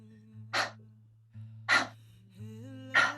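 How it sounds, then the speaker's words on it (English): Three short, forceful breaths blown out through the mouth during a guided breathing pause, evenly spaced about a second apart over a quiet low hum, with no talking. "It's those shorter breaths through the mouth"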